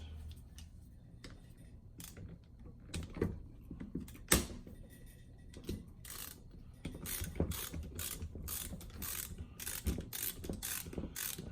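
Socket ratchet clicking while an Allen head bolt on the intake manifold of a 1987 Conquest with a G54B engine is loosened, bursts of rapid close pawl clicks that grow denser toward the end, no talk.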